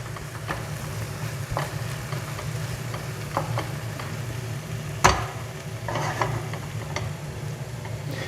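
Onions and garlic sizzle gently in a pan for mushroom risotto, a soft steady frying hiss broken by a few scraping stirs and clicks, close and quiet.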